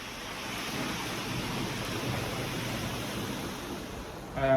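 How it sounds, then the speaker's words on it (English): Heavy rain pours steadily during a thunderstorm, heard from indoors as a dense, continuous wash of noise that swells slightly at the end. "The rain is so heavy now that it is getting inside my room."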